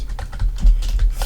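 Quick bursts of keystrokes on a computer keyboard, close and crisp, a short run of clicky taps entering a word, no talking.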